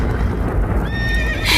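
Horses neigh in a high, wavering whinny over a dense background rumble of hooves and commotion, loud and close.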